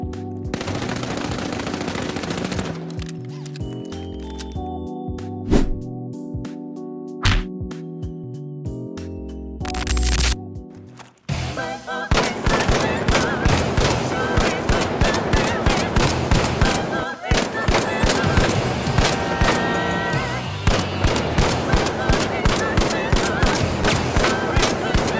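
A light-class weapon in a video game fires in rapid, loud automatic bursts, then in sustained full-auto fire until the magazine runs empty, with dense, continuous shot reports.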